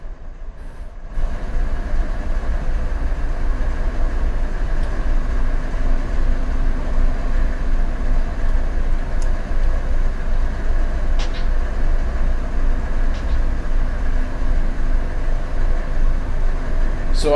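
A train rolling past in the Run8 railroad simulator game: a steady, heavy low rumble with faint clanks and rattles, continuous and fairly loud for the full stretch, with no talking.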